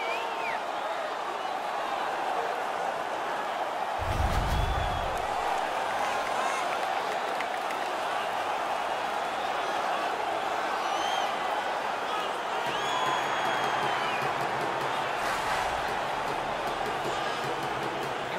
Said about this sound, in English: The crowd is now engaged again.